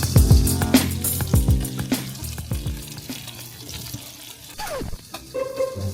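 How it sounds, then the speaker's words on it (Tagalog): Water is poured into a pot of kimchi stew, which hisses and sizzles amid splashes and a few clattering knocks of utensils, fairly close with no talking. "Naglagay na tayo ng tubig sa kimchi stew."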